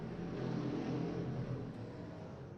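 Stock cars racing on an oval track make a steady, loud engine roar that swells and eases slightly as the pack runs together, with no voices.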